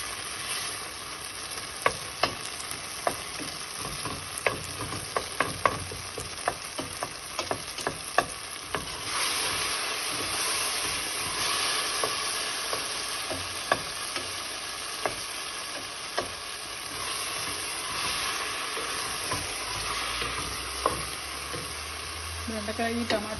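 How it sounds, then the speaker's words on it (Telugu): Okra and tomato curry cooking in a pan, with steady sizzling and frying under repeated clicking stirs and squashing taps as tomatoes are mashed; the frying gets louder partway through. "బెండకాయ నలగకుండా పక్కకు తీసేసి ఇది మాత్రమే మ్యాష్ చేయాలి"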